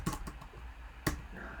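Keys on a computer keyboard are tapped in a short, quiet burst of a few clicks, followed by a pause and then one more sharp keystroke, close and faint.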